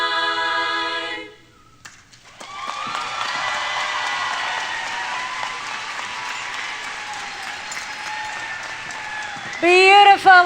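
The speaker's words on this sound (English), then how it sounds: "Let's give them another huge round of applause." Sustained audience applause at a school commencement ceremony, starting after the end of a song and continuing steadily for several seconds, with a voice returning at the very end.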